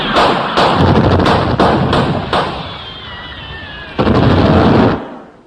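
Rifle volley sound effect in a 1955 radio comedy: a rapid string of sharp cracks and bangs, loud and close, followed by a lingering ricochet whine and a final burst of shots.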